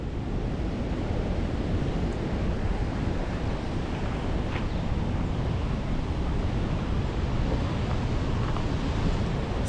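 Waterfall on the Nairobi River at a river regeneration site, a steady, loud, unbroken roar of rushing water that holds evenly throughout, close to the microphone, with no voices heard.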